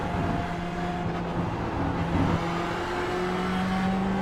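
From inside a race car during the closing hours of the Spa 24 hour race, the engine drones loud and steady with a sustained tonal whine, holding close and constant throughout without any talking.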